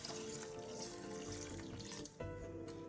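Salted water pours steadily into a large bowl of small sago pearls, a continuous close splashing rush with a brief dip near the end before the flow resumes.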